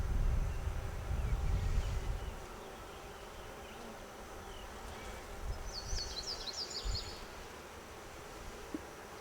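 Honeybees buzz steadily around an open beehive frame, with a soft continuous drone close by, occasional higher whines of individual bees and some handling rumble early on.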